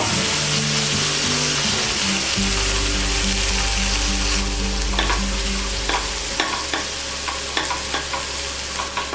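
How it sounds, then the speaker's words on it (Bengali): Tomatoes frying in a kadai over a medium gas flame, a steady close sizzle with scraping stirs and occasional clinks of a utensil against the pan, no talking. "এটাকেও আমরা 1 মিনিট মতন ফ্রাই করবো মিডিয়াম ফ্লেমে।"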